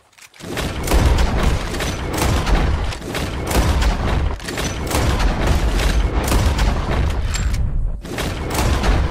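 Repeated loud gunshots boom one after another, close and dense for nine seconds, as players shoot birds out of the sky during a shooting challenge in Red Dead Redemption 2.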